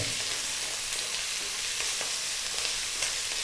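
Chicken sizzles steadily in a hot pan while being sautéed for a Filipino ginataang malunggay dish, a constant crackling fry with faint stirring scrapes throughout.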